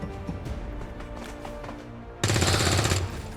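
Rapid burst of gunfire in XCOM 2, loud and dense for about a second after a stretch of quieter game sounds.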